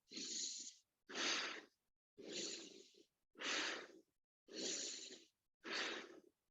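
Six forceful, evenly spaced breaths in a pumping breathwork exercise, each a loud rushing burst of air about a second long separated by brief silences, close and alone.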